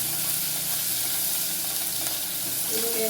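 Onions sizzle in a hot pan, a dense steady frying hiss heard close up throughout with faint stirring scrapes.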